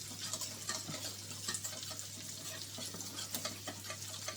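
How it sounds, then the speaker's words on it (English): Flour and butter roux being stirred in a pan for macaroni cheese, soft continuous scraping and gentle sizzling under a steady low hum, quiet and close. "So I'm going to mix that for about 3-4 minutes just to get that flour to cook off."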